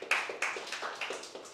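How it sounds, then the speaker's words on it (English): A few sharp, evenly spaced hand claps ring out close by in a brief, steady rhythm during a business talk, with no voices over them. "give a hand of applause for my able"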